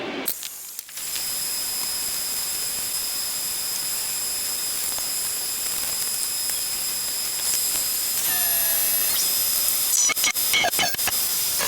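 Milling machine on a Harley-Davidson Panhead chopper build, a 9/16 inch bit opening up sissy bar holes in metal; loud steady high-pitched whine running almost throughout, with rattling clatter near the end.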